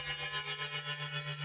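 FM synth bass run through a bandpass filter and reverb, a buzzy sustained tone that pulses rhythmically and thickens as the macro increases.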